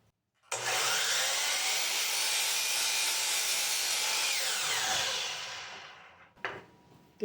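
Burl wood and epoxy resin being cut for a lamp with a loud, steady power saw that runs continuously for about five seconds, then tapers off, followed by a few brief knocks.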